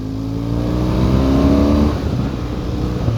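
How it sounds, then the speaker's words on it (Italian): A BMW R1200 GS Adventure motorcycle's boxer engine revs up loud and close with a deep, full low end, rising in pitch for a couple of seconds before easing back to a steady throb. "questo ha dei bellissimi bassi più corposi e il sound che è decisamente maggiore"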